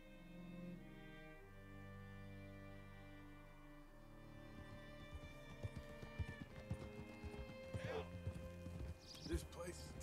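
Horse hooves clop in a steady walking rhythm on a street in the town of Rhodes in Red Dead Redemption 2, rising out of low droning game music, with voices talking over the hoofbeats.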